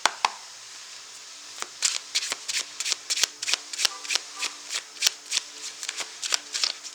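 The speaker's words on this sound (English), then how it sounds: "let's pull a card from the Divina Serenity Oracle deck" An oracle card deck being shuffled by hand, a long run of crisp riffling snaps and soft card slaps in a quick, uneven rhythm, close and clear with no talking.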